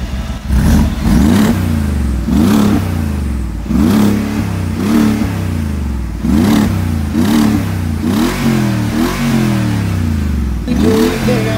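A Mercedes G63 AMG engine revs repeatedly through its exhaust, close and loud, with rhythmic rising and falling bursts and no talking.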